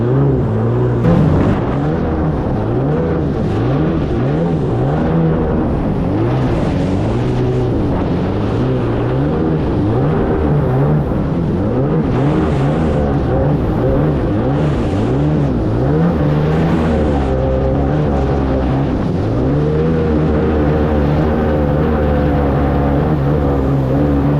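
An abandoned jet ski's engine runs loud and close, revving up and down in rough repeated surges with uneven, sputtering tone throughout.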